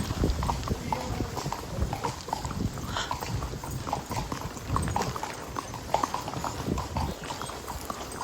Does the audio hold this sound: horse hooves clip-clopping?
yes